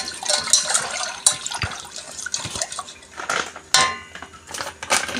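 A pot is stirred while cooking for a kunafa appetizer made with pastry cream, honey and nuts. A metal utensil scrapes and clinks against the pot in irregular, close strokes, with occasional louder knocks.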